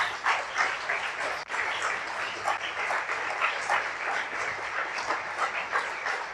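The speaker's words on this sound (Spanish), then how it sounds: "dele una ofrenda de palmas a nuestro Dios" A church congregation applauds during a sermon, a steady wash of many hands clapping at moderate loudness with a brief dip partway through, no talk over it.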